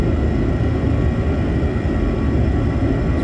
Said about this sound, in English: Setting takeoff thrust now. And we're stuttering down the runway.